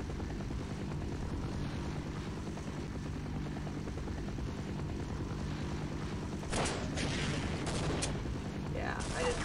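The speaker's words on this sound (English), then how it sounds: "The fucking helicopter." Helicopter in the video game Half-Life, a continuous low rotor thrum and engine drone, joined near the end by sharp bursts like gunfire and crashing mechanical noise.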